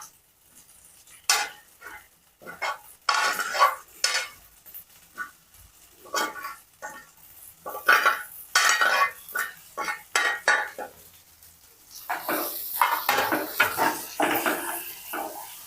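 Fried okra pieces are stirred in a pan, giving irregular clinks and scrapes of a spoon against metal, close and intermittent, with no one speaking.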